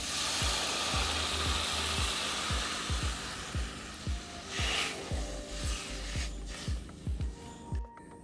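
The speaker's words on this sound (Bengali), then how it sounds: "এবার আমি নারকেলের দুধটা দিয়ে দিচ্ছি" Coconut milk poured into frying masala for a Bengali egg malai curry, a broad steady sizzle with repeated low scraping knocks of a spoon stirring the pan, close and continuous.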